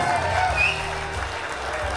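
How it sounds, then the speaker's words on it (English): Wedding guests applauding the groom and his mother, a dense wash of clapping mixed with crowd chatter and voices, loud and close throughout. "one more big round of applause for the groom and his mom"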